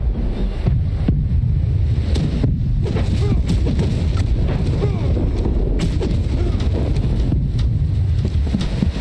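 Heavy booming cannon fire from a sailing warship in the pirate naval battle game Blackwake, repeated low blasts over constant wind and sea noise throughout, with voices calling out now and then.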